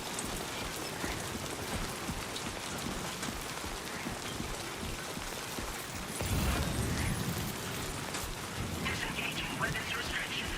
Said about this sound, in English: Just running in the rain.